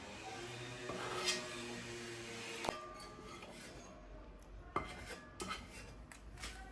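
Cooked goat head meat is tipped from a pot into a bowl, with quiet metallic clinks and scrapes of utensil against cookware and a couple of sharper knocks, faint and close.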